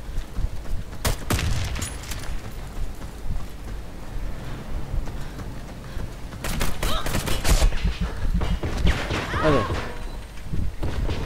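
Gunfire rings out in the shooter game Warface, with sharp cracks and short rapid bursts in scattered clusters, loud and close, between quieter stretches of background game noise.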